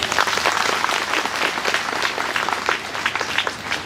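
A parish congregation claps for one another at a church Mass, with dense continuous applause from a crowd that holds steady for several seconds.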